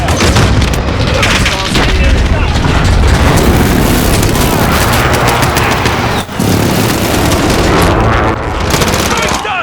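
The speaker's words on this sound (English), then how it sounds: "Be advised, friendly precision airstrike inbound." Call of Duty Modern Warfare match: a precision airstrike pounds the area amid dense gunfire, a loud continuous barrage of booms and rattling shots with only a brief dip in the din.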